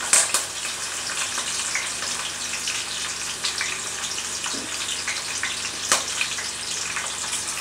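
Onions, green chillies and curry leaves frying in oil for an aloo fish curry, giving a steady, close, hissing sizzle with a few sharp crackles and no voices.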